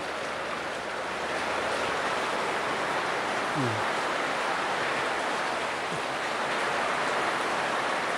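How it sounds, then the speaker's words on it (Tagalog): Heavy rain pouring down steadily outside a family home with pigeon coops, a dense continuous hiss of falling water, close and unbroken, with a faint brief bird-like chirp and no talk. "Yun, lakas ng patak na yan, sa lakas ng ulan."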